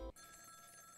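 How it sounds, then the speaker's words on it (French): A telephone rings in the video game Ghost Trick, a short electronic bell tone that starts after a brief loud burst and holds steadily at moderate volume to the end, with no talking. "Ah, téléphone."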